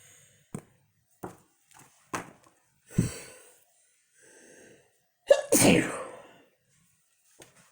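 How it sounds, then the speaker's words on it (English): A woman sneezing indoors, several short sharp sneezes spaced a second apart followed by a bigger, longer sneeze with a gasping release, then quiet. "I am full of sneezes today, excuse me."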